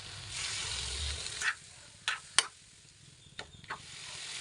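Soya chunks and half a cup of coconut milk are stirred together in a hot pan for a soya chunks roast, giving a soft sizzle followed by several sharp spoon-on-pan clicks and scrapes.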